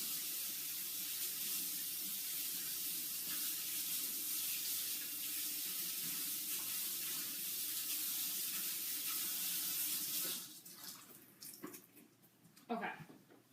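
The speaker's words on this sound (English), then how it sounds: "let me wash my hands" A kitchen tap runs steadily while hands are washed, a loud continuous rush of water for about ten seconds, then it shuts off into a few splashes and handling clatter.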